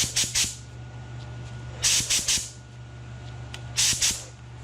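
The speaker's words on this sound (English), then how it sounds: "My pressure drops a little bit as I spray, so 40 is good." Three separate bursts of paint spray-gun hiss at about 40 PSI in a garage, each made of a few quick pulses, over a steady low compressor hum, with short quiet gaps between bursts.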